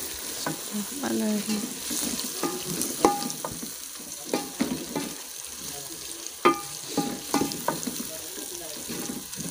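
Mutton being stirred into a softened, cooked masala for Shimla mirch gosht, with repeated scraping spoon strokes and knocks against the pan over a steady low sizzle, close and moderately loud.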